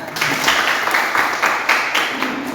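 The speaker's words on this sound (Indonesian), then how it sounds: "Oke, bagus, tepuk tangan." Students in a classroom clap together in a short burst of uneven, close-by claps, with some voices faintly underneath.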